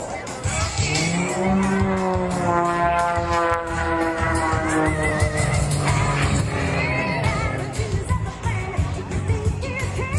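An aerobatic airplane at the Reno Air Races powers out of a torque roll, its engine droning loudly and continuously, the pitch sweeping up and down as the throttle changes.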